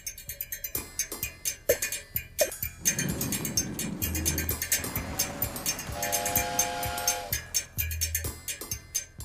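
A train rumbles past with a rhythmic clatter of wheels over rail joints, a steady rolling din that rises and falls, with a brief horn-like tone partway through.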